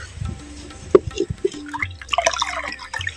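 Rice-washing water is poured into a clay pot for banana flower rasam, giving brief splashes and drips with a gurgling trickle near the end, close and uneven against a quiet background.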